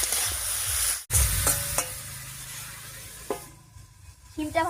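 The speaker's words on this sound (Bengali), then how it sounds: "এবার ঢাকা দিয়ে কিছুক্ষণ ভাজা করে নেব।" Flat beans fry in a pan that is then covered, with a loud, steady sizzle broken by a brief drop and a few clicks and scrapes, then a softer, muffled hiss.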